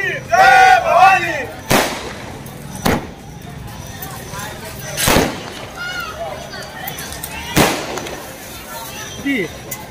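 Firecrackers go off at a street celebration in Alandi welcoming a court verdict: several sharp, loud single cracks spaced a few seconds apart, over a crowd chanting and talking.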